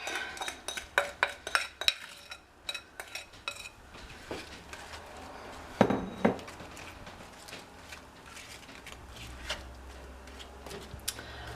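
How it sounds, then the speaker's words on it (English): Apples are dumped over pork chops in a pan for an apple pie pork chop dish, giving a run of sharp clinks and clatters of metal and dishware at first, then a sudden louder clatter, and quieter shuffling afterward. "let's dump those apples right on top."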